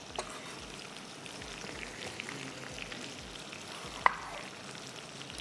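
Chopped tomatoes with turmeric, salt and chili cook in a pan with a soft, steady sizzle and faint bubbling, quiet and close, with one brief sharp tap partway through.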